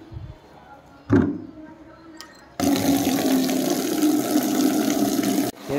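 In a village cattle shed, water gushes steadily into a bucket, a loud continuous pour that begins abruptly after a brief clatter and stops near the end.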